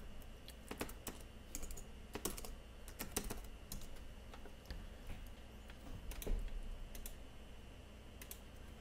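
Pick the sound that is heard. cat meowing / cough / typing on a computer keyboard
typing on a computer keyboard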